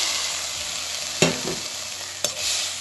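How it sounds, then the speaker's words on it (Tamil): Steady frying sizzle from a hot pan with a couple of soft scraping knocks as mashed carrot is stirred around. "அந்த பாத்திரத்தில் மசிச்சதை ஆட் பண்ணுறேன்."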